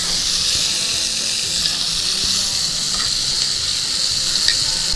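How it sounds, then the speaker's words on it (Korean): Butter melting and sizzling in a pan with Iberico pork neck and onions, a loud, close, continuous hiss with faint scrapes, no talking. "여기에 버터를 마지막으로 조금만 녹여줄게요"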